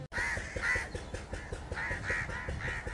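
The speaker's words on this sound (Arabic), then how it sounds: "نعيق غراب وصوت مضخة مياه" Crow cawing in a deserted village south of Ad Durayhimi, Hodeidah, Yemen, with harsh repeated caws over a steady mechanical chug of a water pump, both fairly close and continuous.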